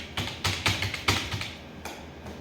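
Typing on a computer keyboard while entering text into a Visual Basic form: a quick run of close, distinct key clicks in an uneven rhythm, then a single later tap and no talk.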